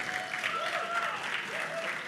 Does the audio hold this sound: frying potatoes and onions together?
no